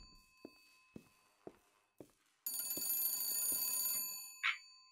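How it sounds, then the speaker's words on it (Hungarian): A telephone rings in the video game BioShock Infinite: a loud, sustained, bright electric ring that cuts in after a few soft footsteps, lasts under two seconds, then stops, followed by a short chime. "Csörög a telefon."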